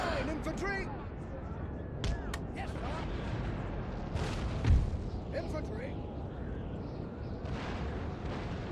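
Cannon fire from a Napoleonic-era battle in the strategy game Napoleon: Total War, with distant booms and bursts scattered through a busy battlefield din, one heavier blast standing out midway, beneath ongoing background commotion.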